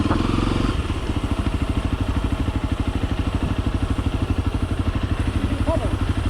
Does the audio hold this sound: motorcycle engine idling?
yes